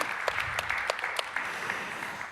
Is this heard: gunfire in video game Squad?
no